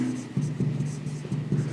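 Chalk or marker strokes on a board during a physics lesson about a galvanometer, a few short scratchy scrapes in quick succession close by, with a faint voice underneath.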